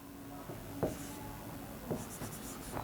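Chalk or marker scratching across a classroom board in short separate strokes, faint and close, with no talk over it.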